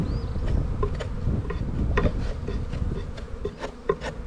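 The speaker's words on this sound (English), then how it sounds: "There's a bunch of the wax cappings here in this box," Bees buzzing in a beehive box during a hive check, a dense, close, continuous hum with light knocks and taps of handling over it.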